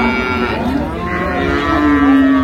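Cattle at a rural livestock market in Dinajpur, with a cow giving a loud, close, drawn-out moo that fills the moment, and no talking.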